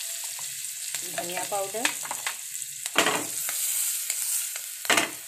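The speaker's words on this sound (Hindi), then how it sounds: "तेल गरम हो गया है, इसमें डाल देंगे हींग, हरी मिर्च, साथ में डाल देंगे हल्दी पाउडर" Asafoetida, green chillies and turmeric powder sizzling in hot oil, a moderate hiss with a few sharper bursts as spices hit the pan, while someone speaks briefly over it.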